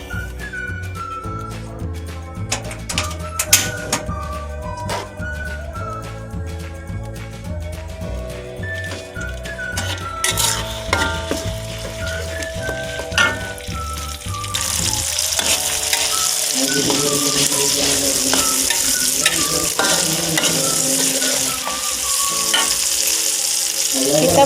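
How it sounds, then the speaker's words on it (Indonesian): Rendang spices of cinnamon, nutmeg, star anise and cardamom sauté in a pan, a loud continuous sizzle with stirring scrapes that grows brighter and more intense midway, with no speech. "Nah, ini kita tumis ya guys"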